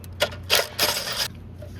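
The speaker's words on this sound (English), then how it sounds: "Let's get these two 8mm bolts out." Two 8mm bolts being removed from the turbo actuator of a 2018 Ram 2500 6.7L Cummins diesel, heard as a quick run of metallic clicks and ratcheting rasps, close and brief.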